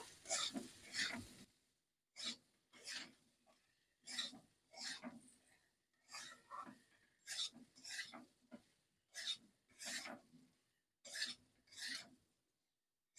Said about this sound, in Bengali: মশলার সাথে সবজিগুলো খুব ভালো করে মিক্সড করে নেব।